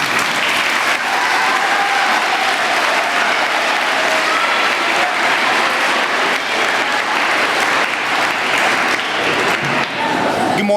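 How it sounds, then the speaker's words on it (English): A school audience at a middle school Veterans Day ceremony claps in sustained, dense applause that fills the hall evenly for about ten seconds without letting up. "Please help me give Matthew Cunningham a huge round of applause"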